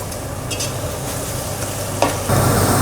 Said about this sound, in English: Let's give that a mix.